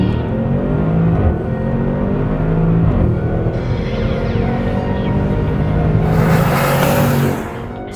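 A 2022 Bentley Bentayga S drives hard around the Hampton Downs racetrack, its engine roaring loud and steady with rising and falling revs as it shifts through gears, then a surge of tyre and wind noise near the end.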